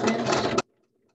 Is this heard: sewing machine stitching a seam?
yes